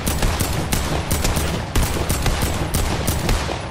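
AK rifle fire in Fortnite: rapid, loud, close automatic bursts hammering out in a steady rhythm of sharp cracks across the whole stretch.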